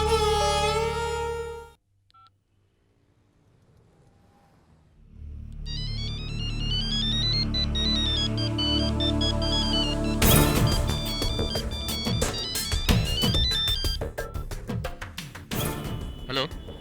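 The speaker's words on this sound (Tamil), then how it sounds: "என்ன விஷயம், காலையிலேயே ஃபோன் பண்ணிட்டீங்க?" A telephone ringtone in a Tamil television serial sounds first, then after a brief near-silence a melodic electronic ringtone plays loudly over background music and voices.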